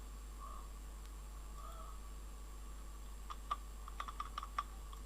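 Fingers tap quick, irregular keystrokes on a computer keyboard, a cluster of sharp light clicks arriving late over a quiet room hum.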